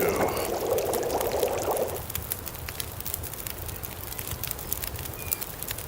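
Water pours steadily in The Long Dark for about two seconds, then stops, leaving a crackling ambient background that sounds like a fire.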